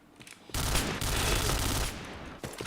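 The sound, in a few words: gunfire in a shooter video game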